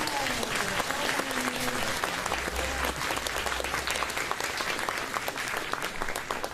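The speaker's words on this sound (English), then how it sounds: "Ava and Sophia, everybody, round of applause." A large school audience claps continuously at a fine arts night, a dense, sustained wash of applause with faint voices mixed in.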